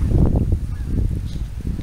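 A flock of geese flying overhead in V formation over a beach gives repeated honking calls, fairly close and overlapping in an uneven chorus with no talk.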